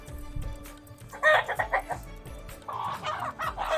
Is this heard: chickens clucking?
yes